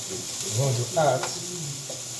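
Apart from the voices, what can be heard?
Thai pork cubes sizzling while frying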